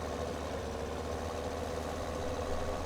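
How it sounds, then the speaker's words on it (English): A truck engine idles in the Farming Simulator 17 video game, a steady low rumble holding even and continuous from start to finish with no talk over it. "we'll see if the truck is available. We'll maybe take that for a spin as opposed to the tractor"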